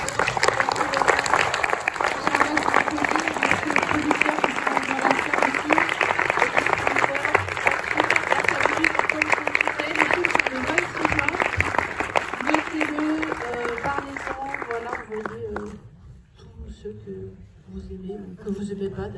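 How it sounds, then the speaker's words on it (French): A theatre audience at the Méliès cinema in Montreuil applauds the Pistolets en plastique team, steady loud clapping that carries on for about fifteen seconds before fading into quieter room sound. "vous pouvez à nouveau applaudir l'équipe des Pistolets en plastique"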